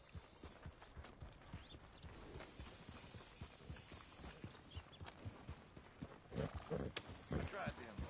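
Horse hooves clip-clop at a walking pace on a path in Red Dead Redemption 2, with creaking tack and a brief whinny, while game dialogue plays over them.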